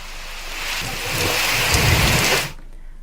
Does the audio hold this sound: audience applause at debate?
no